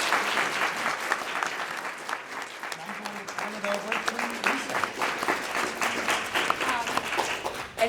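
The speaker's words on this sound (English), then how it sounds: "Can we get a round of applause, please?" An audience applauds panelists at a funders' session, with steady clapping throughout and a person speaking briefly over it partway through.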